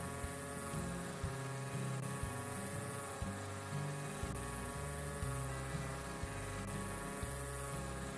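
A lawn edger trimming grass edges in the Lawn Care Simulator video game gives off a steady, loud motor buzz with shifting tonal steps throughout.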